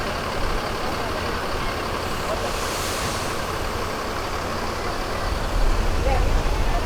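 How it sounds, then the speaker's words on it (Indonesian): A bus pulls out of a bus terminal in Indonesia as a steady, heavy engine rumble under crowd noise and voices, with a brief hiss of air near the middle. "Bus Lantra Jaya tujuan Kota Agung Lahat segera diberangkatkan bersama dengan Putra Rafflesia tujuan Bengkulu teman-teman."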